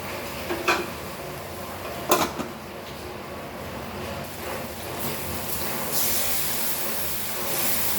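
Spinach with salt fries in a pan for palak paneer, giving a low, steady sizzling hiss broken by a few sharp clanks of a utensil against cookware.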